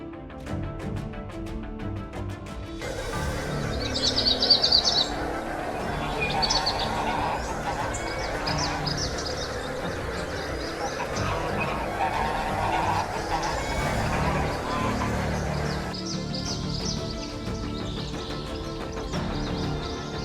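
Canada geese honking in a flock, a dense continuous chorus of overlapping honks and calls at moderate distance, steady throughout with louder bursts, alone without talk.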